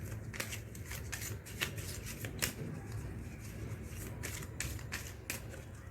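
Cards being shuffled and drawn during a card reading, a steady riffle of crisp flicks and snaps with a few sharper slaps, close and fairly quiet over a low room hum.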